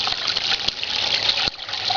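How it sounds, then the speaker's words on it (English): Water running steadily through a tabletop drop trap sluice, a continuous broad rushing trickle with two brief dips in flow, close and alone without voices. "Now my water flow is acting goofy."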